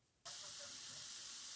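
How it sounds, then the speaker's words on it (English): Onions and garlic sauteing in a pan for spaghetti, a steady loud sizzle that kicks in abruptly and holds as a continuous hiss. "I start by sauteing my onions and my garlic"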